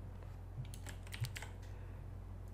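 Soft keystrokes on a computer keyboard while entering a command into a Windows 11 Run box, a few faint, irregular clicks over a low steady hum.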